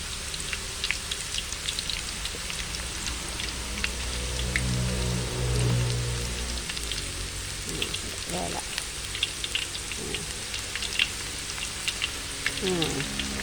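Banana slices sizzle and crackle steadily in hot oil while being made into salted banana chips, a dense rain-like frying hiss with someone talking over it.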